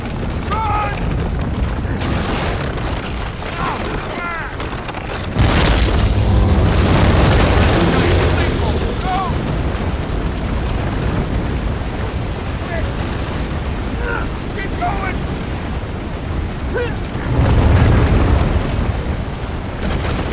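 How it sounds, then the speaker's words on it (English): A building collapses amid explosions in the Uncharted 3 video game, with deep rumbling booms and crashing debris throughout, heavier surges in the middle and near the end, and voices shouting over the chaos. "The whole place is coming down!"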